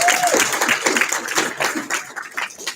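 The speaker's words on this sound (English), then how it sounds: "Let's give ourselves another round of that applause." A short burst of applause from a crowd, dense clapping that gradually thins and fades over a few seconds.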